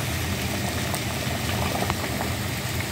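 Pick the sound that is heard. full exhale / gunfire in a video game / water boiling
water boiling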